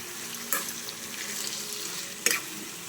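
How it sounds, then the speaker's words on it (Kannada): Onion, capsicum and green chilli fry in a pan on a low flame for capsicum chutney, giving a soft, steady sizzle broken by two sharp clicks of a utensil against the pan. "ಅದು ಹಾಗೆ ಫ್ರೈ ಆಗ್ತಾ ಇರಬೇಕು."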